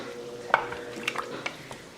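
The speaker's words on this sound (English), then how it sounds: "I'm gonna give it a quick stir" A spoon stirs beef stew inside an Instant Pot, giving a quick stir with a sharp clink against the pot near the start and a few softer scrapes and taps after it, close and fairly quiet, with no talk.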